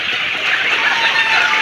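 Fayoumi chickens on a hatchery farm give dense overlapping clucks and chatter, close and loud, as a continuous flock noise.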